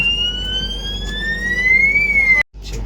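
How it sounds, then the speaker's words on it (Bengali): A train's alarm siren sounds after the emergency chain is pulled: one loud, sustained electronic tone slowly rising in pitch, close by, cutting off abruptly near the end. "এখন চেন টেনে দিয়েছে, সাইরেন বাজছে"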